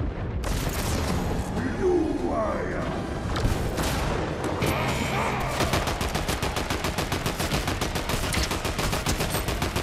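Fortnite gunfire rattles in fast, evenly spaced automatic bursts that turn into a steady rapid stream, loud and close, with players talking now and then over the shooting.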